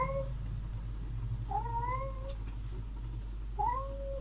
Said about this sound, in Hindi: एक्चुअली मेरा बिल्ली चिल्ला रहा था पीछे से मियाँ मियाँ